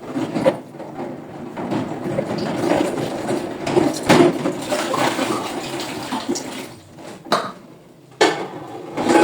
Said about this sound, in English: So this is when I wash my bottles so that they have a clean bottle.